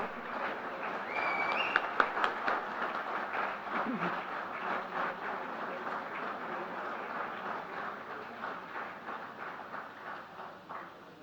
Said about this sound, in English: A big round of applause for all of them.